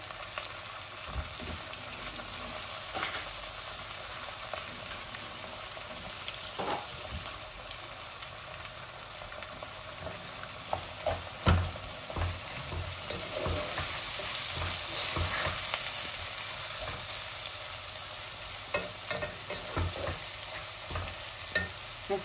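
Two kinds of onion fry in a pan with a steady, fairly quiet sizzle, broken by occasional stirring scrapes and soft knocks; no one speaks.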